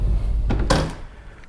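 A Mitsubishi Evo X car door swinging and shutting with a solid close-range thunk, preceded by a lighter knock of the door moving, over low outdoor background rumble.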